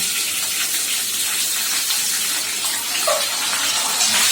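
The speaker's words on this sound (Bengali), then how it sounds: "এবার এই পেঁয়াজ কটা আমি হালকা করে ভেজে নেব" Sliced onions frying in oil for a Bengali-style chicken curry, a continuous bright hiss of sizzling that stays steady and fairly loud throughout.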